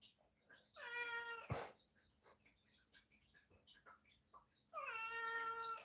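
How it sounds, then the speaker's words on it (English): A house cat meows in the background in two drawn-out, strong calls, one at the start and another near the end, with a quieter stretch between them. "my cat's in the background"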